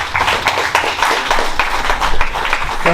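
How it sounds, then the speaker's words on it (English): Audience applause at an African business gala ball, a steady wash of many hands clapping with scattered sharper claps, moderately loud throughout. "So can we please have a round of applause for David?"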